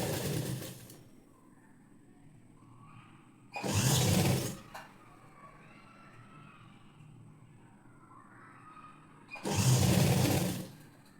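A sewing machine stitching blouse fabric runs in three short bursts of rapid whirring, each a second or so long, separated by quiet pauses.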